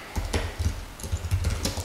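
Typing code on a computer keyboard: a quick, close run of soft clicking keystrokes in an irregular rhythm, no talking.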